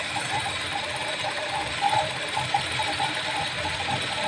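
A sewing machine winds thread onto its bobbin with a steady, close mechanical whir and faint ratcheting clicks, running continuously and alone.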